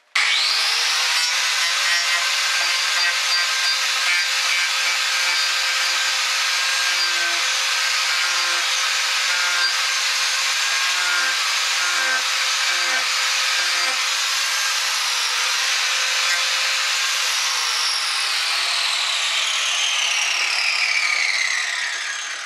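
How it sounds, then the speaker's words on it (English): An angle grinder works a wooden joiner clamped in a vise, a loud continuous high whine with a gritty rasp that holds steady for over twenty seconds with no talking. "To clean up my joiner, I usually start with an angle grinder."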